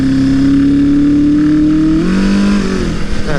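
A Suzuki GS850 motorcycle engine, freshly rebuilt, revs loud and close with a slipping clutch, its steady drone rising in pitch then dropping and wavering.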